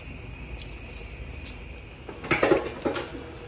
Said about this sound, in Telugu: వేసుకున్న రైస్ని బాగా కలుపుతూ దగ్గరికి అయ్యే వరకు ఉడికించుకోండి